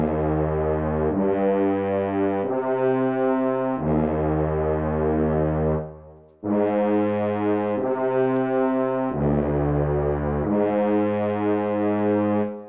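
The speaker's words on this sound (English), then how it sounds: "the horn theme pulled by itself sounds like this." A sustained brass horn melody of long held notes, played alone and fairly loud, with a brief pause partway before the theme resumes.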